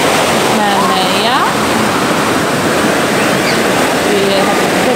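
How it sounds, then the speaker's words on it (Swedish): High ocean waves crashing and surging in a loud, continuous roar of surf, with faint voices audible beneath the water noise. "Vi hade väldigt höga vågor."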